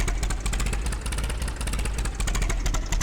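A tractor engine in the farming video game Farming Simulator 22 runs with a steady, loud, throbbing rumble and a fast pulsing beat, close and unbroken.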